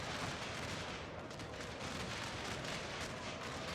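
Artillery fires in a Battle of Franklin 1864 video game, heard as a dense, continuous roar of rumbling blasts and crackling gunfire at a steady level, with no one speaking.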